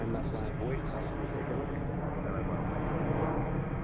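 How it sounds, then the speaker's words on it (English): A heavy Boeing 757 takes off at Philadelphia airport with a steady, loud roar of jet engines, while a person talks over the noise. "Our second heavy takeoff of the day, plus a 757."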